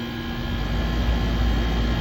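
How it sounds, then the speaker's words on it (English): HVAC outdoor condenser running after a contactor bump start, a steady loud whirring drone of fan and compressor heard close and unbroken, with no talk. "Seems like the fan and compressor works"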